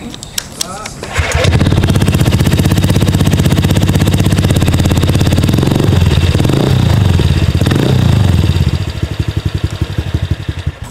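Honda Vario scooter-style motorcycle fitted with a custom stainless WRC exhaust, revving loudly and steadily for several seconds with a deep throaty rumble before dropping back, people talking over it.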